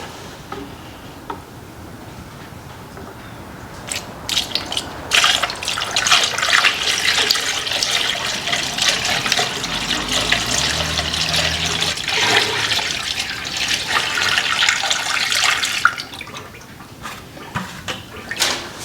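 Fluid poured into the top tank of a Farmall Super M tractor radiator: a steady splashing, gurgling pour that builds and runs for about ten seconds, then tapers off, with faint clicks before and after and no talking.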